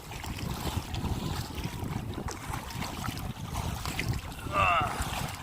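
Gusty wind buffets the microphone during a kayak trip on the Intracoastal Waterway, with steady low roaring rumble, faint water sounds and occasional paddle noise, and a brief stretch of louder gusting near the end.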